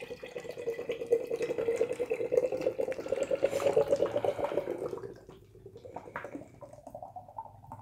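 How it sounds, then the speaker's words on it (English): Surly Brewing nitro coffee ale poured hard into a glass, a steady close liquid rush for about five seconds that then tapers to softer fizzing and trickling. "But I'm going to pour this one hard because it is nitro."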